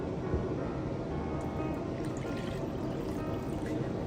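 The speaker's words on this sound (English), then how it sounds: "Add wet ingredients to dry ingredients." Wet ingredients pour steadily into a bowl of dry whole-grain batter ingredients, a continuous close liquid pour with no pauses.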